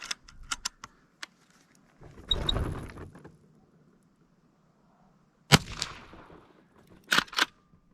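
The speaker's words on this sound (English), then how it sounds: "I'm having a little issue cycling this rifle" Marlin 1894 lever-action rifle fired outdoors at a range, with loud sharp reports and bursts of metallic clatter as the lever is cycled, the action sounding rough and stiff, plus a few short clicks between shots.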